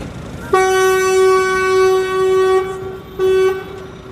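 A loud, sustained train horn sounds inside Moynihan Train Hall, part of the Penn Station expansion in Manhattan, holding steady for about two seconds, then a second shorter blast follows after a brief pause, echoing in the large hall.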